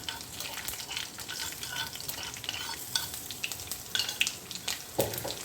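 Crushed garlic fries in hot oil in a pan, a continuous crackly sizzle with frequent scraping stir strokes and small pops, close and alone without talk.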